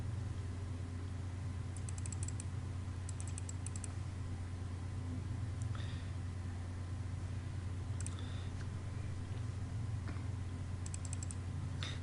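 Soft, faint key presses on a computer keyboard, including the Tab key, come in small scattered bursts of clicks over a steady low hum, with no talking.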